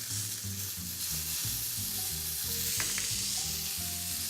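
Garlic cloves and butter sizzle loudly and steadily in a pan as lamb loins are basted, with a rhythmic clatter of the spoon scooping and pouring under the continuous frying hiss.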